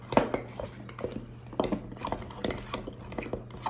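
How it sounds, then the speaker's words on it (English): A spoon stirs chocolate mug cake batter made with a few drops of vanilla, giving quick repeated clinks and scrapes against the mug in an irregular rhythm, close and fairly loud, with no talking. "And now we're going to mix it all up."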